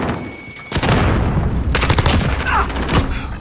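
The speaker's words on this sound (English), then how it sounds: "Grenade out!" Gunfire and a grenade explosion in Call of Duty Modern Warfare: bursts of rapid shots and a heavy blast, loud and close, in dense layered combat.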